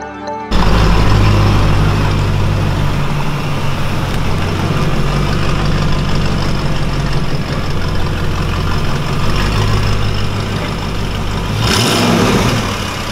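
A BMW E39 V8 that is leaking some oil starts and runs loud and close, settling into a steady deep idle rumble with slight revs, then a brief change near the end.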